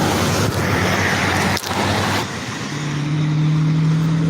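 A car passes on a road close by, its engine a steady loud rumble that swells and fades, with a low hum settling in toward the end.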